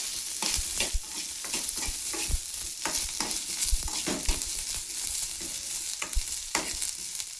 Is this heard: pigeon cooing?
no